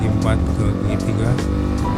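A QJmotor Tourino 250 DX motorcycle climbing a steady uphill road, its engine droning loudly and close with a brief rev change as it shifts into third gear; a rider talks over the engine.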